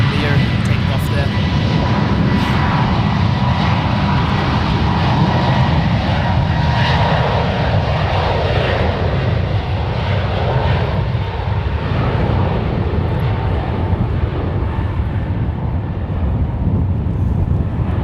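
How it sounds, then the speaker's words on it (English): An American Airlines A321neo takes off at San Francisco International Airport, its engine roar a steady, broad rumble that holds for the whole stretch, with wind buffeting the microphone. "Got the American A321neo taking off there."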